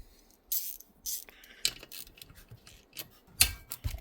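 A faulty ratchet is handled, giving scattered light metallic clicks and small rattles at irregular intervals, close and fairly quiet with silence between.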